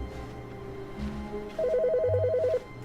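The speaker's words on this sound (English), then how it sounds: "Your phone ringing." Phone ringing in The Stanley Parable video game, a single warbling electronic ring burst about a second long, clear against a low background hum.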